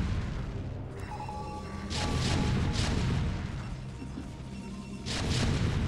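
Siege tanks in StarCraft: Brood War shell a base with heavy booming blasts. Several thuds and crashes come in waves over a constant rumbling battle din.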